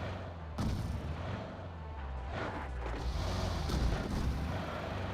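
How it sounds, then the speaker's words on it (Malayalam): Gunfire and explosive booms from a survival shooting video game rattle in bursts over a continuous rumbling background, fairly quiet overall with several sharp reports, and no talk. "അല്ലല്ല വെടി വരികയാണല്ലോ."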